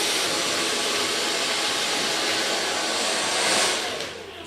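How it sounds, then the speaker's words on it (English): Hair dryer blowing on freshly colored hair during a salon trim: a steady, loud airy roar runs throughout and swells slightly before easing off at the end, with no talking. "So I'll blow dry this a bit and then we're back."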